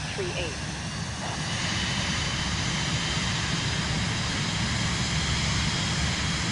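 Steady airplane engine drone from Microsoft Flight Simulator 2024 played on PS5, a continuous broad roar with no breaks.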